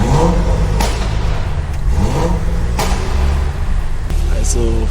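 A stage 2 tuned BMW 4 Series engine revs loudly inside the cabin, with a rough, steady roar and several sharp surges or pops as the throttle is blipped.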